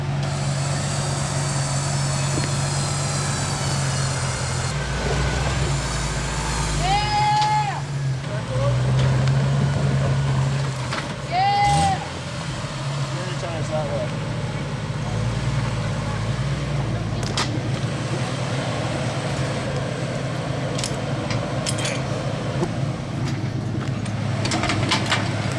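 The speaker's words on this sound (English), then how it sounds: "go ahead and start your engine" A Jeep Wrangler JL engine idles on an off-road trail during a winch recovery, a low steady rumble running throughout with occasional brief whines and clanks, and people talking over it.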